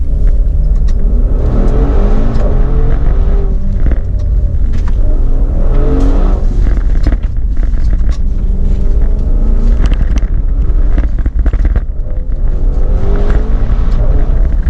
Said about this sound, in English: so that engine is serrated, it is ferocious, it's mellifluous, it's cultured, it's well-bred.